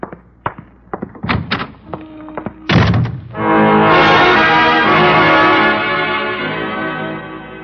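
A door shuts in a radio drama with a few knocks and handling clicks, then a heavy wooden thunk that rings out into a long, loud, bell-like resonance. No voices are heard.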